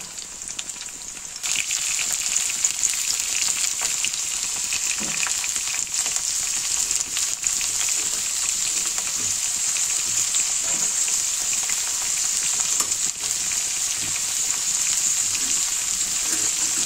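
Potatoes fry in a pan with a steady, bright sizzle that swells as they go in and then holds constant, close and continuous with faint stirring.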